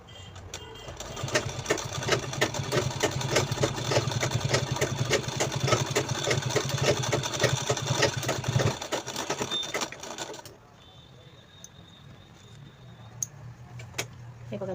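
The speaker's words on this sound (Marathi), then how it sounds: "हिला टाप स्टिच देऊन घ्यायची आहे" A domestic sewing machine runs steadily for about ten seconds, top stitching a small handmade purse, its rapid needle clatter loud and close before it stops and the room falls quiet.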